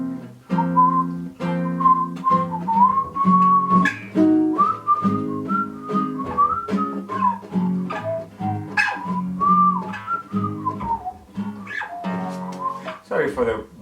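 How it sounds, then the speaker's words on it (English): A person whistles the melody of a song's chorus, a wavering, close, fairly loud tune over sustained low accompanying chords, with short breaks between phrases. "Sorry for the bad whistling"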